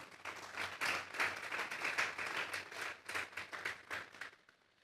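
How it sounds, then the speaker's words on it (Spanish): A church congregation gives the Lord a strong round of applause: dense, steady clapping from many hands that swells briefly, then tapers off and fades out at the end. "Vamos a darle un fuerte aplauso esta tarde al Señor"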